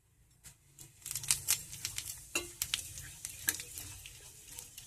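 Nigella seeds and a little whole cumin tempering in hot oil left over from frying brinjal, for a tangra fish curry: scattered crackles and sharp pops, fairly quiet and close, with no talking.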